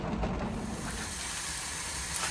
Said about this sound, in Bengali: পুরা বেগুন ভাজা হচ্ছে